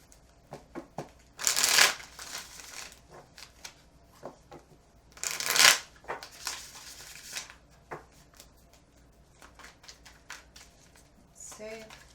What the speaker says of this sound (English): Let me just shuffle these real quick.